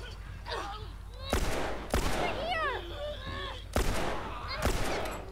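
Gunfire in The Last of Us, with four sharp, loud shots spaced unevenly and someone talking excitedly between them.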